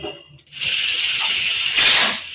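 Dry red chillies are dropped into hot oil with mustard seeds and fenugreek, setting off a loud, steady sizzle after a brief quiet start, then swelling once more before easing off.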